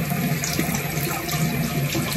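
Hot water runs steadily from a bathroom tap into a sink in a constant, even splashing hiss, close by with no talking.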